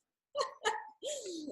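Dogs barking indoors: two short, sharp barks followed by a longer whining, howl-like bark, fairly loud and close, with no talk over them.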